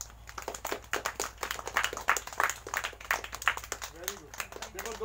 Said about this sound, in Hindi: ताली बजाओ दीदी के लिए।